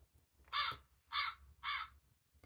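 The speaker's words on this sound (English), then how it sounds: "We have some crows at the scarecrow." Three loud, evenly spaced crow caws from a toy farm sound book with a scarecrow scene, each a short harsh burst with brief pauses between, heard alone.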